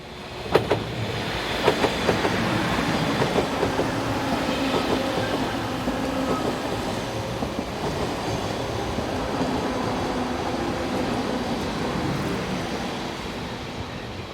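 Intercity train set 411072 rolls past on the rails, a steady broad rumble with rhythmic clickety-clack and faint wheel squeal running throughout, loud and close with no one talking.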